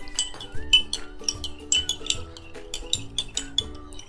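A spoon stirs powdered sugar into chilled milk in a glass, giving a string of light, irregular clinks against the glass over steady background music.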